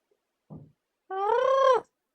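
A cat gives a short soft chirp followed by a clear, drawn-out meow, close and alone in an otherwise quiet room.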